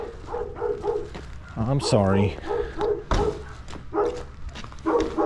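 A dog barks and yips several times at close range during a winter food delivery at a customer's door, its calls breaking through a person's steady apologetic talking.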